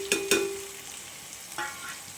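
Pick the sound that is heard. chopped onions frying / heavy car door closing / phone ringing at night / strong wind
chopped onions frying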